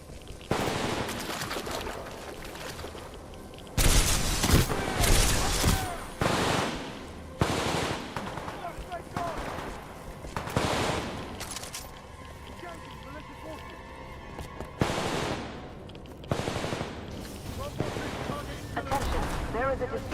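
Machine gun fire in the video game Titanfall 2 rattles in repeated loud bursts between pauses, mixed with shouted voices and other battle noise throughout.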